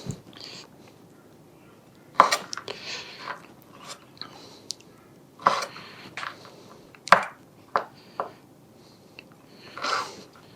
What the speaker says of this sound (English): we'll chop some of these